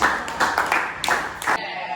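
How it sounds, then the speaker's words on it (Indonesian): Classroom applause for a student group in a ninth-grade lesson on Archimedes' principle, a short burst of scattered clapping from a small group, fairly close, that stops abruptly before two seconds. "beri tepuk tangan kepada kelompok 4"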